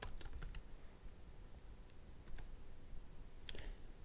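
Computer keyboard typing code, a quiet spatter of key clicks in short bursts over a steady background hiss, with no talk.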